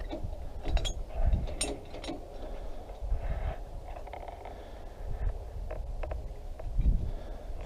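Ratcheting clicks and gear whir from the hand-cranked winch of a Harbor Freight engine crane running without a load, repeated mechanical clatter in an uneven rhythm, close and moderately loud with no voices.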